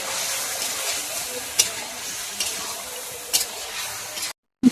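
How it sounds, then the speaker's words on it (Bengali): Spices and meat for a kacchi biryani fry in oil with a continuous sizzle, broken by a few sharp scrapes from stirring, then a brief silence before one last clatter. "এবারে সমস্ত মশলা আবারও ভালো করে কষে নেব"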